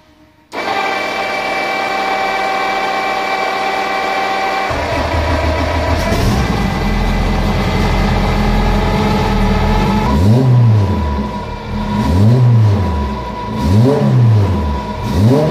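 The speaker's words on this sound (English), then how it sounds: "let's go ahead and start the car and let's get her on the road." A turbocharged EG car engine cranks and catches, then settles into a loud, steady idle before a series of four rising and falling revs close by.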